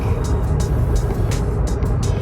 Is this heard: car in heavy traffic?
yes